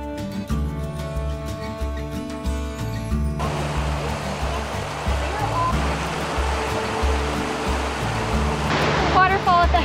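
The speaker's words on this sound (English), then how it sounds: "Waterfall up ahead, a little one." A small waterfall on a mountain hiking trail near the Maroon Bells in Colorado rushes as a steady broad wash, rising a little louder toward the end, with music playing over it at first.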